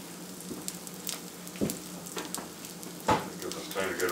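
Food fries in a cast iron skillet with a close, steady sizzle, punctuated by a few brief pops and a spatula scrape, without speech.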